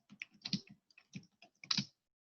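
Keystrokes on a computer keyboard while typing in Microsoft Word, a few separate close clicks in small uneven clusters with short gaps, quiet and without speech.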